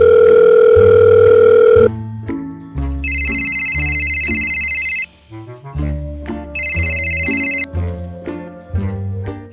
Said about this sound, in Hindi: मैं सोमलाल का फोन मिला रहा हूँ